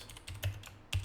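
A few keys tap on a computer keyboard, quiet and close, with heavier thumps at the start and end of a short burst. No one speaks.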